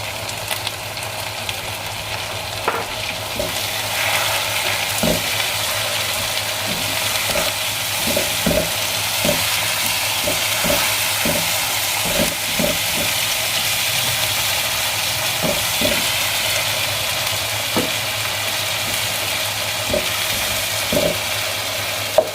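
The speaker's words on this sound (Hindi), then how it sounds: "तो ये प्याज़ों को 5 मिनट हो गए, तो अब अपने टमाटर शामिल कर दें।" Onions and tomatoes sizzling steadily in a hot pan, a constant loud frying hiss with a spoon scraping and knocking against the pan at irregular intervals, no talking.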